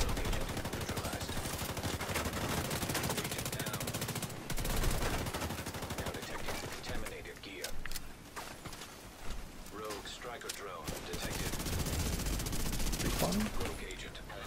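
Dense automatic gunfire in The Division 2's PvP Dark Zone clatters in rapid bursts for a long stretch, easing for a few seconds midway before picking up again, loud and close with occasional voices under it.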